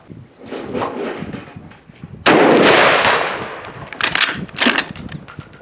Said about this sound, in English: I'm going to be shooting at this one right here, which is at 150 yards and 175 yards and 200 yards right behind that